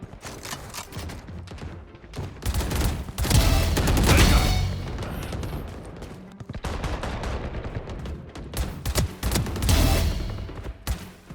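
Rapid bursts of video game gunfire from a Phantom rifle, bright and crackling, with a dense sustained volley in the middle and further short rattling bursts.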